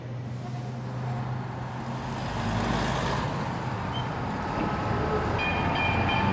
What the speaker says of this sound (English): you can hear the trains going by now.